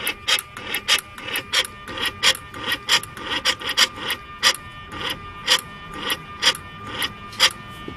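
Mercedes SL600 throttle linkage being worked by hand during an Egas test, giving a steady, rhythmic mechanical rasping that repeats about twice a second for several seconds, close and fairly loud with no talking.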